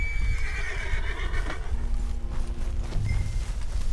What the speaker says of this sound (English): Monta no cavalo aí, fi.